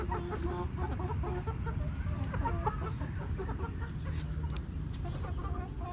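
Backyard chickens cluck and murmur continuously at close range while being fed, with soft repeated calls over a low, steady rumble of background noise.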